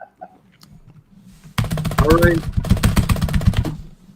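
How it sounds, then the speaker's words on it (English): Loud computer keyboard typing picked up close by a good microphone, a rapid burst of sharp clacking keystrokes that begins after a brief spoken phrase and keeps going under a voice. "120 decibel keyboard strokes."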